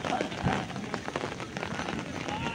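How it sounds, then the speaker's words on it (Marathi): Heavy rain falls at a bullock ploughing competition ground in Devrukh, a steady, faint patter of drops on surfaces with soft scattered taps and a murmur of background activity. "आज पाऊस पण खूप आहे"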